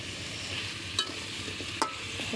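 Meat curry is stirred on a clay stove over a low, constant sizzle, with two brief, sharp scrapes of the spoon against the pan.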